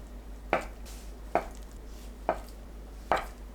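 Four crisp, evenly spaced knife strokes cut a block of drained tofu into 1 cm slices, each a short thump against the cutting board, close and fairly quiet over a faint low hum.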